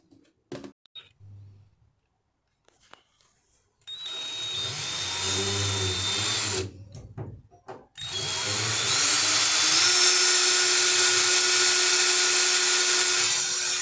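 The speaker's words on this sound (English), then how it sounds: "Andrew's just drilling through from that centre point" A power drill bores through the steel body panel of a 2019 Peugeot Boxer van during a window installation, whining in two sustained loud bursts after a few brief starts and taps, the second run longer and steadier.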